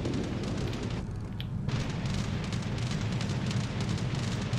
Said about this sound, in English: you can hear our AA really working over the enemy fighters